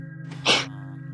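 A single sharp sneeze bursts out mid-clip, loud and close, over a steady low electrical hum during a casual voice chat among Minecraft server players.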